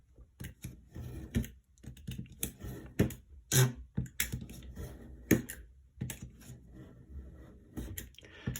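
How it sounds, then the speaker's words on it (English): A cutting tool scores repeatedly through a linocut plate, giving a close series of sharp scratchy strokes and clicks in an irregular rhythm, some louder than others. "Score it as many times as you need to cut through."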